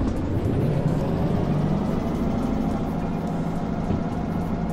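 A train engine in the game Derail Valley running flat out at max speed, pulling three cars: a loud, continuous low rumbling drone that holds steady throughout, with no talking.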